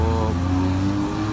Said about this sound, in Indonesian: sekarang kita tungguin busnya datang